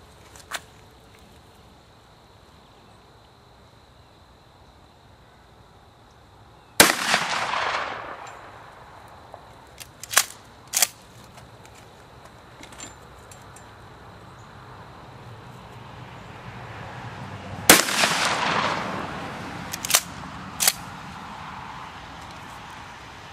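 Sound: gunshots while sighting in a rifle

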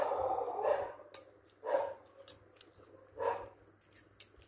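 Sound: dog barking

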